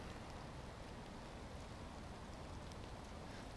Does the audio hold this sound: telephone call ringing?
no